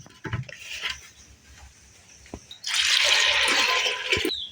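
Soaked split pea lentils being rinsed in water, with splashing and sloshing that swells into a loud continuous rush of running water in the second half.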